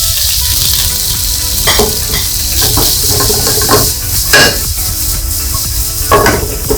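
Dry fusilli pasta tumbles into a hot pot, loud close sizzling and frying with repeated scraping stirs and light clatters over several seconds.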